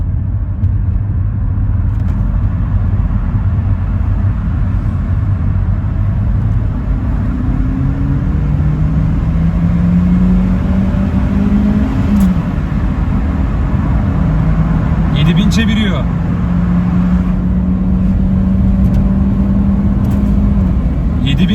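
BMW 116i with a manual gearbox, engine revving and accelerating from inside the cabin, pitch climbing through gears in several rising sweeps under steady road rumble, with someone talking throughout.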